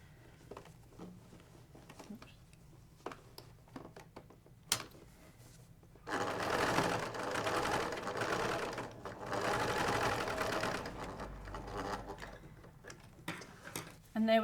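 A sewing machine stitches a band onto a box cushion cover in an upholstery workroom, running in a long steady burst after a few seconds of quiet ticking and handling, then a brief pause and more stitching.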